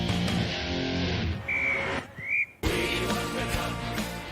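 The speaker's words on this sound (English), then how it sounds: "The full-time whistle blows" A referee blows the full-time whistle. Two short, thin whistle tones rise out of a busy, noisy background, the second one briefly rising in pitch, and the din continues afterward.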